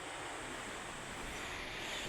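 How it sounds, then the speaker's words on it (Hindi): Fast-flowing river water rushing in a steady, broad hiss, even and continuous with a slight wind-like wash and no voices. "पानी भी देखिए कितनी तेज़ चल रहा है अभी"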